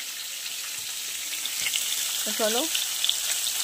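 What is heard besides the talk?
fish frying in oil for fish curry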